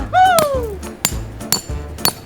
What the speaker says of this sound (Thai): วิธีก็คือตอกมุมด้านข้างนะคะ